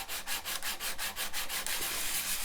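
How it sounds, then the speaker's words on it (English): Steady rhythmic sanding of a metal signet ring, even back-and-forth strokes rasping at a regular pace, close and continuous with no voices. "I want the sanding to be even all the way up through the legs of"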